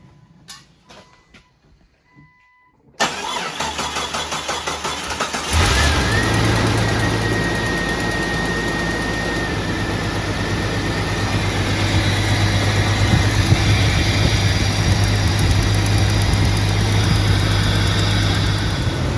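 A Jeep XJ 4.0-liter engine, freshly fitted with a new head gasket, cranks and catches after a few seconds of quiet, then settles into a loud, steady idle that holds close and continuous to the end.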